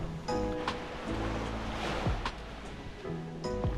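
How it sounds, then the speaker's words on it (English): Ocean waves at Loggerhead Beach in Bahia Honda State Park, Florida Keys, on the Atlantic-facing shore, wash in a steady rushing surf mixed with wind, with a low hum and some tonal background sound. "This is Loggerhead Beach, the other beach in Bahia Honda State Park, which faces southeast towards the Atlantic Ocean."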